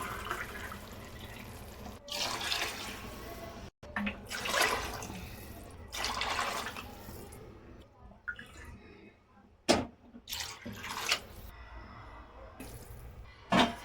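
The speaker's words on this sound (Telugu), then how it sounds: "6 గ్లాస్ వాటర్ పోసుకోవాలి." Water is poured into a pot of basmati rice in several separate splashy bursts, with quiet pauses between pours and a voice speaking softly at times.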